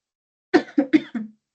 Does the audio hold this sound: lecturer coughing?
yes